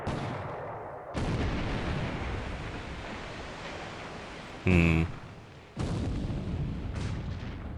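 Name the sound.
ship gunfire in the video game War in the Pacific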